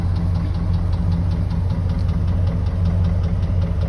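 A 1998 Chevrolet C/K 1500 Z71 4x4 pickup with dual exhaust idles nearby, a steady, even low rumble with a faint regular ticking on top, no voices.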